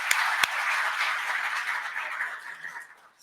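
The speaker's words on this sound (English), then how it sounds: "let's just break the ice by giving them a round of applause" A small audience gives a round of applause to a panel of four experts at an art direction talk, steady dense clapping with a couple of sharper claps early, fading out toward the end.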